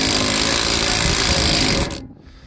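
A power tool hammers loudly and continuously at close range on a tight bolt under a farm sprayer, then stops abruptly after about two seconds.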